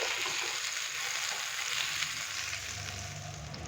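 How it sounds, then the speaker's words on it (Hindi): Butter melts in a pan with a steady, close sizzle and crackle that holds for a few seconds, no voices over it. "मक्खन को अच्छे से करते हैं मेल्ट।"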